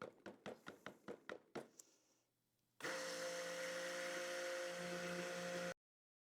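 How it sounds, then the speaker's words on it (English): A stick blender whirs loudly and steadily for about three seconds, mixing an oil blend for cold process soap, after a run of rhythmic taps and knocks. It then cuts off abruptly into silence. "we're gonna take our stick blender and we're gonna blend it for 1 minute"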